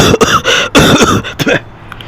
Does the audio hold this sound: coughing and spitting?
yes